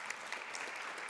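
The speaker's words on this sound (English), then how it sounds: "I would like us to give them a huge round of applause again" Applause from the audience at a Global Landscapes Forum talk session in Nairobi, a steady, dense wash of clapping that holds evenly throughout.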